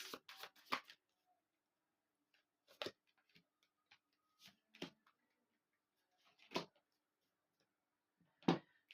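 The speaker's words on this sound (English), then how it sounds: "Cards do not want to shuffle today" Tarot cards are shuffled in short, crisp riffling bursts close by, about six separate flurries spaced a second or two apart, with near silence between them in a quiet room.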